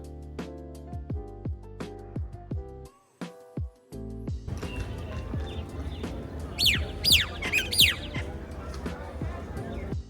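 Talking and rustling at first, then a busy outdoor ambience at Jaigarh Fort, Jaipur, where several birds chirp and tweet sharply, fairly close, in quick repeated calls.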